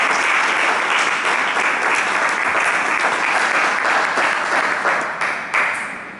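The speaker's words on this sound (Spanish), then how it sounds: "un aplauso para Carmen, por favor" A crowd at a local creators' gathering claps warmly for the next speaker, a dense, even burst of applause that holds steady before tapering off at the end.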